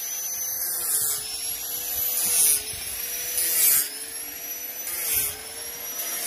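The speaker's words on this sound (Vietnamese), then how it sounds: "ở ngoài đây là đang tiến hành sục cái giếng ở đây các bác" Water being pumped through a newly drilled well to flush out mud, heard as a steady motorised drone with a low hum, with rushing, hissing surges about every second and a half.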